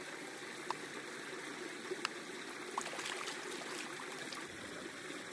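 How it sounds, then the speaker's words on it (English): Water trickles and splashes steadily as freshly picked fiddleheads are rinsed outdoors at an Appalachian campsite, a soft continuous wash with a few faint clinks and no voices. "I'm just going to clean these up and rinse them off."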